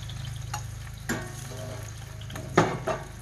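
Potatoes sizzle steadily in an iron skillet, with a few scraping clanks of a utensil against the metal.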